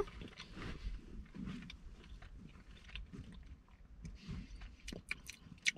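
Close, quiet chewing of a crunchy dark chocolate bar with green tea and unroasted quinoa, irregular crisp bites and mouth sounds with a few sharper crunches near the end.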